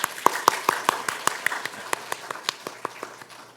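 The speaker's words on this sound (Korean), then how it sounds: "우리 박수하겠습니다." Scattered claps from a small church congregation during a Sunday worship service, a dozen or so distinct sharp hand claps at a steady, somewhat sparse rhythm, fairly close and moderately loud, with no one talking.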